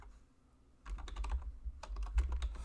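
Computer keyboard typing while coding a JavaScript beginner project: after a quiet start, bursts of close, rapid key taps with thumping keystrokes, no speech.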